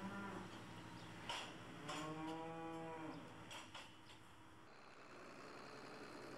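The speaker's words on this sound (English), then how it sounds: "as the cow leaves the parlour, the next one in the queue makes her way into the stall" Dairy cows in a milking parlour, with one long resonant moo rising in the middle over a busy indoor background of clanks and machinery hum.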